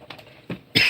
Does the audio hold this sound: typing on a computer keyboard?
no